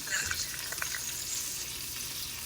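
Duck breast searing on high heat in a hot pan, a steady bright sizzle and crackle of fat with a few louder pops, heard up close without talk.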